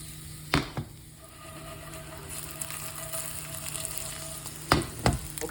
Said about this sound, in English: I'm just gonna use that fat to cook up these potato skins